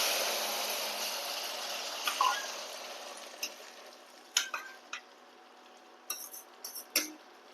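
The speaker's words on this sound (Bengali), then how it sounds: "এবার এই ঝোলটাকে এর মধ্যে দিয়ে দিচ্ছি।" Fish curry broth poured into a pan with fried leaves and stirred, giving a steady broad sizzle that fades slowly, with scattered clinks and scrapes of a spoon against the pan toward the end.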